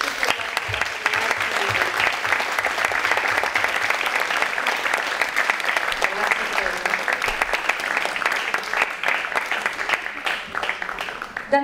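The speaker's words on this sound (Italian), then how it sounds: "che tutte quante noi stasera facessimo un applauso a lei" An audience at an anniversary ceremony claps in sustained, dense applause that runs throughout at moderate loudness and fades slightly toward the end.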